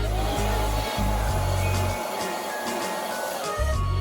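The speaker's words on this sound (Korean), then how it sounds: "드라이기로 아까 볼륨을 살려줬던 부분을 써주세요" A hair dryer blows with a steady, loud whooshing roar close by, its hum briefly shifting as the airflow changes, with no talking.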